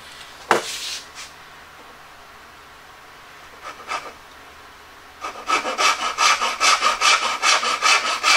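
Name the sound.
sawing the side of a wood joint with a dovetail saw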